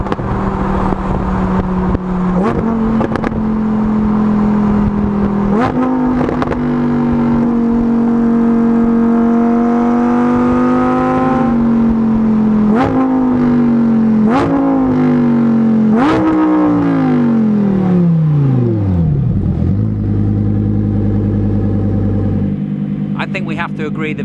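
Lamborghini Huracan Performante V10 engine revving close up on a road test, rising and falling through several sharp blips and sustained pulls before settling, loud and dominant with voices faint underneath.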